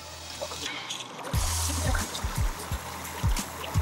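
Water bubbles and churns in a bath in Budapest after a button is pressed, a steady close gurgling wash with low thumping surges at irregular intervals.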